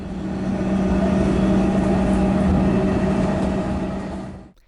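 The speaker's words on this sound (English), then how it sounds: "Here is the view from a Sunbury-bound train." A Sunbury-bound train runs through the Metro Tunnel Western Portal with a steady loud rumble and motor hum that fades out at the end.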